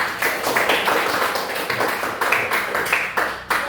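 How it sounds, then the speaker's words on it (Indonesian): A short burst of hand clapping from a small group, steady and fairly close, lasting a few seconds with no voices over it. "Tepuk tangan untuk Ilham."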